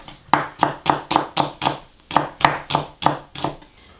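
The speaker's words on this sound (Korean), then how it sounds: "슬라이스로 썰어줍니다." A knife slices small onions thinly on a cutting board in about a dozen crisp, evenly paced chops, each a close sharp knock with a short crunch, with no talk.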